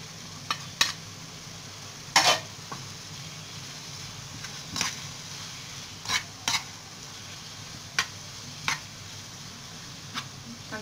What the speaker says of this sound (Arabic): هنقلب فيها التوابل دي كده